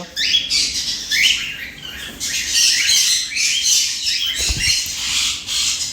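Conures and cockatiels, including lutino cockatiels, at a bird farm give off a busy mix of shrill squawks and chirps, loud and close with some scratchy patter, and no talking.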